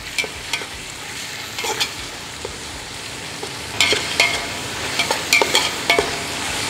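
Ash gourd sautéing in a pan for wedding-style Kasi halwa, with scattered soft sizzles and occasional clinks of a stirring spoon, louder bursts of scraping toward the end.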